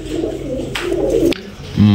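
Belgian racing pigeons coo in a steady, close run of throaty calls that continues throughout, swelling into a louder, fuller coo near the end.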